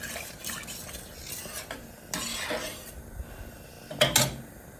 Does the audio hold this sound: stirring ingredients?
yes